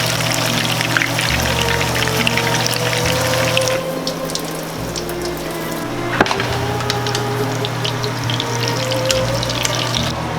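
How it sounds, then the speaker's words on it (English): Excess oil is tipped out of a pan of browning vegan meatballs, then sauce is poured in. A close, steady pouring and sizzling wash runs throughout, shifting in tone partway as the sauce goes in, with no talk. "I'm going to let out the excess oil, and then I'm going to add our sauce."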